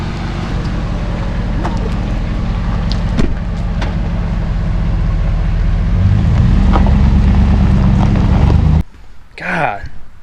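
A push-to-start car idles steadily for several seconds as it is moved, a continuous engine rumble with light wind buffeting, then cutting off abruptly near the end before a brief faint rustle.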